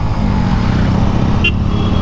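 Road traffic in Thiruvananthapuram, a loud, constant rumble of engines and tyres from nearby vehicles with one brief higher tone near the end.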